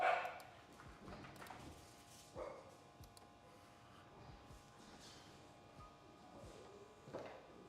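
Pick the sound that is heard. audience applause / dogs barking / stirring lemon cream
dogs barking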